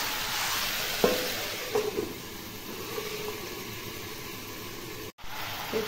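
Malabar spinach (pui shak) cooks in a pan, a steady soft sizzle and hiss with a couple of faint stirring clinks, close and continuous with no talk.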